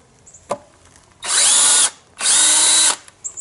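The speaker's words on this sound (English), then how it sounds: "When you get it in there, hold your drill straight up." A power drill drives a screw in two sustained, loud bursts of whining motor noise, each about a second long, close by and separated by a short pause.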